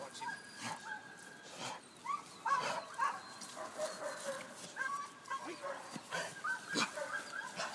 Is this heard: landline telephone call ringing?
no